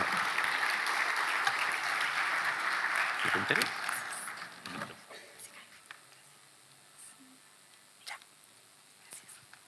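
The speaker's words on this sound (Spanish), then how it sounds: "Le damos un tremendo y fuerte aplauso" A crowd at a public meeting opposing a waste-to-energy plant applauds loudly for a few seconds, then the clapping fades into quiet room noise with a few scattered sounds.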